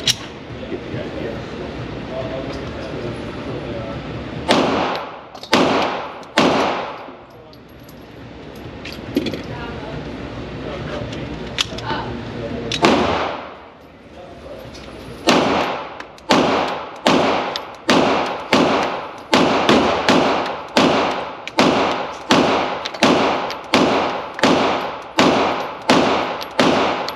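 A PSA Dagger Compact pistol fires a long series of sharp, loud shots, a few spaced single shots first, then a steady rapid string of evenly spaced reports, with people talking between them.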